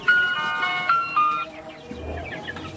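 Egyptian Fayoumi hens cluck and call nearby in a few short bursts on a poultry farm, with faint farmyard background noise and no talking.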